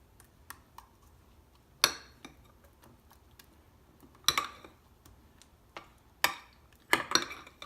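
Spoon or spatula knocking and scraping against a bowl while raw raspberry ice cream is mixed, a handful of sharp clinks spaced irregularly over a quiet background.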